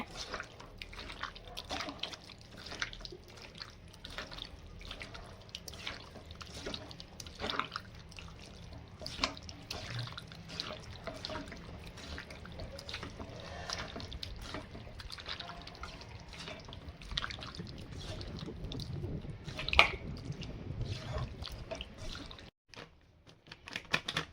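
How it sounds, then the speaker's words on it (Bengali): Chicken being mixed by hand with two eggs and soy sauce in a marinade for chilli chicken, wet squelching and dripping sounds continuing steadily for over twenty seconds. "এর মধ্যে দুটো ডিম দিয়ে দেব চিকেনটা ভালো করে ম্যারিনেট করে নেব"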